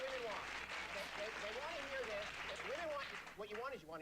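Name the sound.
audience applause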